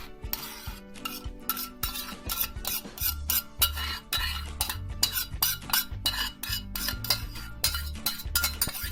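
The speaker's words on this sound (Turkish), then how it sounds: "Şimdi e, makarnamızın sosunu dökeceğiz üstüne" Sauce is poured over cooked pasta and mixed in a pot, giving a steady run of sharp metallic scrapes and clinks of a utensil against the pan with wet stirring sounds between them.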